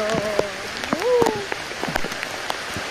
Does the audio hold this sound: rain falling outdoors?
yes